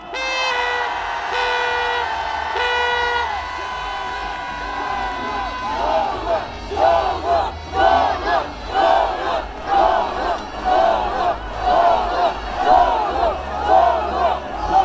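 A large rally crowd near the National Assembly station cheers for a party leader, first a sustained roar with a chanted tone, then rhythmic chanting and clapping in waves, loud and close, with a voice over the PA.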